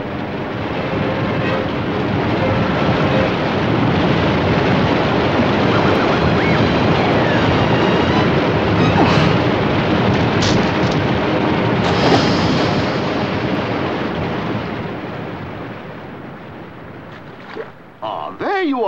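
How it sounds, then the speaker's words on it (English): A big cartoon waterfall roars in a loud, continuous rush that swells and holds steady, then fades slightly toward the end as faint voices come in. "I think we're coming to a flutterfall. A very big waterfall."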